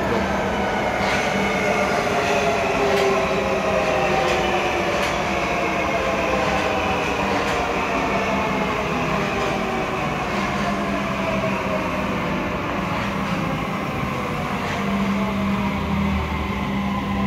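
A Budapest M3 line metro train pulls into the renovated Dózsa György út underground station, a loud, continuous roar of wheels and motors with gliding pitch and rhythmic rail clicks filling the platform throughout.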